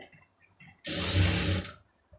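A sewing machine stitches the edge of a lined blouse in one quick burst of rapid, close mechanical rattling lasting about a second, between quiet moments.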